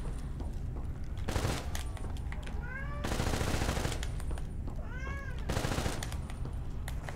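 A pet cat meows loudly and repeatedly, several drawn-out wavering cries that stand out over dense bursts of rapid video game gunfire from Black Ops 3 zombies.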